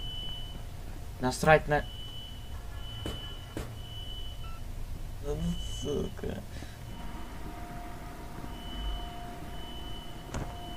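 Steady electronic alarm beeping inside a metro station in the video game INFRA, a thin repeating tone running through the clip beneath a man's muttered speech and a few clunks.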